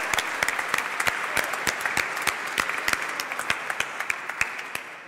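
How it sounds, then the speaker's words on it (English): A community assembly audience gives a round of applause, many hands clapping in a steady dense stream with sharp individual claps standing out close by, continuing for several seconds. "Everyone, let's give them a big round of applause."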